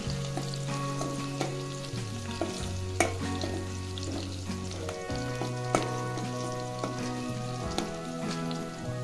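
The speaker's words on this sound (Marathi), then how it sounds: "मिरच्या लसूण आता चांगलं भाजून घ्यायचं आहे" Large torn green chillies and garlic roasting in a pan, a loud continuous sizzle broken by repeated crisp spatula scrapes and knocks against the pan.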